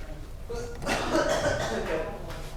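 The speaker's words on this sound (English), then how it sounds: "I heard a cough with a V in it" A single cough in a classroom during a math lesson, brief and fairly close, with chatter and talk around it.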